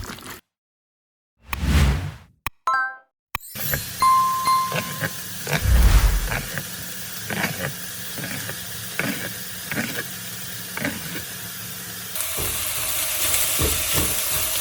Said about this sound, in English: sauteing it really well